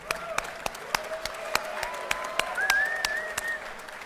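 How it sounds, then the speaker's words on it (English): An audience at an awards ceremony gives a round of applause, with scattered sharp claps over a soft crowd murmur and a few faint voices in the room. "keep that round of applause going for Pia Wall."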